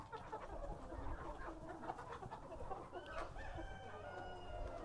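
Free-range farm chickens cluck and a large rooster crows, several birds calling near and far in overlapping bursts, fairly quiet overall.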